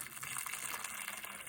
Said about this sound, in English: So just pour hot water